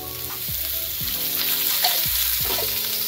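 Long-sliced onion frying in a little oil for a village-style chicken rassa, a steady close sizzle with occasional soft stirring scrapes and low tonal hum underneath.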